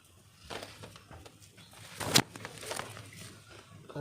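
Pigeons coo in a loft in a low, repeating murmur, with a brief loud rustle or flutter near the middle against steady background noise.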